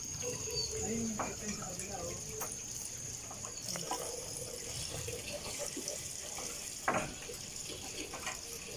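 Running water splashes continuously as pechay is washed, with occasional clinks and handling sounds, while a voice talks faintly in the background.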